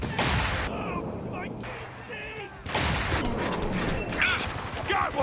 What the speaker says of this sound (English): Throw it, flashbang!